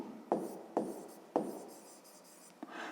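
Pen writing on paper at close range, a few short scratchy strokes with quick onsets followed by softer trailing scribbles, quiet, no talking.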